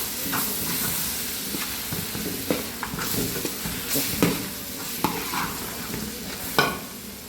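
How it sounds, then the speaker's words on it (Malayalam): Chopped ingredients for a chicken curry sauté in a pan with a steady sizzling hiss, punctuated by irregular scraping stirs and clacks of a spoon against the pan, close and fairly loud, with no voices. "ഞാനിതിനെ വീണ്ടും നന്നായിട്ട് വഴറ്റിയെടുക്കുക"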